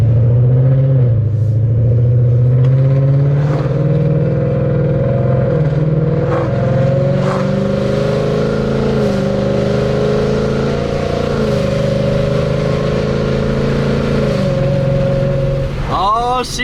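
Loud, steady engine drone from a 2024 Mustang GT fitted with a Whipple stage 2 supercharger, cruising at a gentle pace with harmonic tones rising and falling slightly, close up inside the cabin, with a sharp swell near the end.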